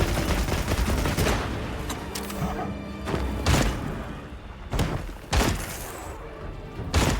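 Bowgun firing spread ammo in Monster Hunter Wilds, loud repeated blasts with crackling scatter and heavy thuds, spaced about a second apart over dense battle noise.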